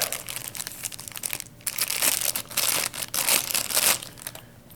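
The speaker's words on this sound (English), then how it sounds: "So let me unwrap it." Packaging around an EMAY SleepO2 Pro sleep monitor is unwrapped close by, with bursts of plastic crinkling and crumpling broken by short pauses.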